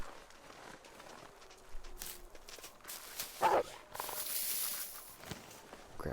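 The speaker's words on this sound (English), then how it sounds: "the way they bark, it feels like they're coming right at you" Animals barking in the survival video game The Long Dark, distant, irregular barks mixed with crunching footsteps and ambient wind, growing louder toward the end; no talking.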